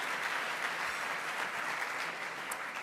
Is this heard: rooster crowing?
no